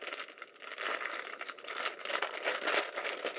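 A resealable plastic bag holding computer case screws and tie-downs is handled up close, giving continuous crisp crinkling and rustling that swells and eases without pause.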